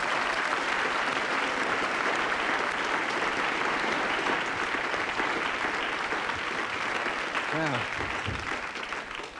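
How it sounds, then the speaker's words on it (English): A 1984 TV game-show studio audience applauds loudly and steadily for six contestants called up on stage, the clapping dense and continuous before a voice briefly cuts in at the end. "I'd like a big round of applause, please, for these 6 lovely people"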